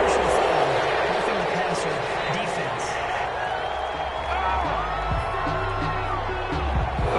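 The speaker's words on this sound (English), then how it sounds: "This crowd does not like that call." Stadium crowd in a football video game reacting to a penalty call, a dense, steady roar of booing and cheering filling the whole stretch with no clear breaks.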